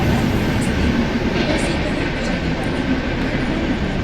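In Indian Train Simulator, the New Delhi–Bhubaneshwar Duronto Express near Ghaziabad rumbles along in a loud, steady, continuous roar of wheels and carriages, with someone narrating over it.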